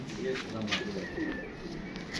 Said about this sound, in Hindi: ये जी दोस्तों, ये रामपुरी कबूतरी है माशाल्लाह।